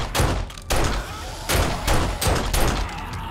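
Pistol gunfire in the video game 7 Days to Die comes as a rapid series of loud, close, booming shots with echoing tails, heard alone.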